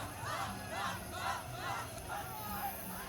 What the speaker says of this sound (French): C'est pas tous les jours que ton nom est acclamé par la foule.